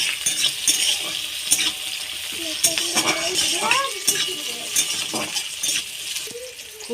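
Chopped tomato goes into a frying pan for chicken do pyaza, with a close crackling sizzle, utensil scrapes and clinks, and faint background voices.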